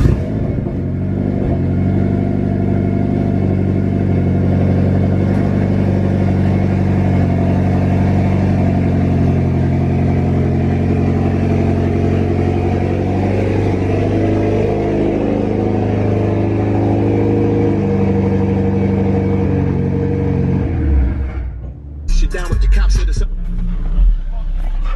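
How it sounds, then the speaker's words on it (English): A Mitsubishi Evo engine rumbles and revs steadily for about twenty seconds as the car is pulled out, loud and close, with voices babbling in the background before the engine cuts and brief clattering follows. "I gotta pull the Evo out"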